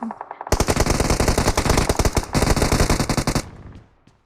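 Rapid automatic gunfire in a video game shooting at bots, long loud bursts of closely spaced shots lasting a few seconds before stopping abruptly.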